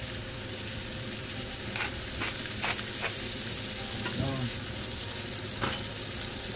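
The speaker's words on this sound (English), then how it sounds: "We put our meatballs into the hot olive oil into the frying pan." Meatballs sizzle steadily in hot olive oil in a frying pan, a dense close frying hiss with occasional sharper crackles and pops, no voices over it.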